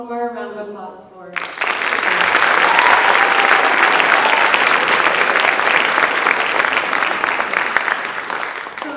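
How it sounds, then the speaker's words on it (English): A school band concert audience breaks into loud, sustained applause after a brief opening voice, dense clapping filling the hall steadily to the end. "One more round of applause for."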